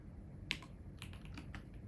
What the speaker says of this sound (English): I'm having a bit of trouble navigating my keyboard because I've got cable all over it